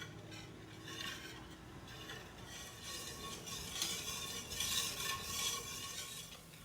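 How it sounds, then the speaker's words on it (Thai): A hand whisk stirs pandan custard steadily in a pot over a steaming bath, a soft continuous scraping and swishing at low volume with faint rhythmic surges. "ใช้ตะกร้อมือแบบนี้ คนไปเรื่อยๆเลยค่ะ"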